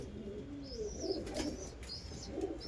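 Pigeons coo softly in a loft, low rounded calls rising and falling across a few seconds, with faint chirps and light background rustle.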